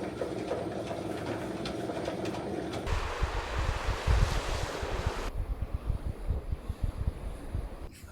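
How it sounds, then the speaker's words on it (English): Wind blowing outdoors in Svalbard in windy, rainy October storm weather, a steady broadband roar with gusty low rumbling buffets that grow stronger midway, with no voices. "It's been like windy and rainy for a couple of days now."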